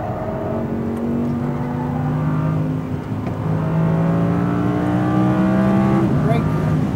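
An Audi R8 V10 RWD accelerates on a race track at Speed Vegas, its loud engine note rising in pitch through gear changes, heard from inside the car as an instructor speaks over it.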